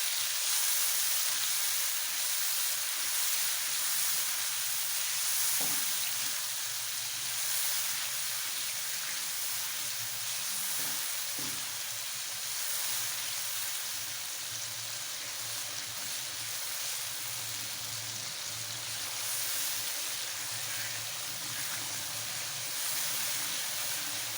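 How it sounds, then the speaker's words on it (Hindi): Beef nihari meat frying in a pan with yogurt and nihari masala gives a steady, close sizzle with constant hiss, a couple of soft stirring knocks near the middle and no voices. "अब इसको भूनना है आपने।"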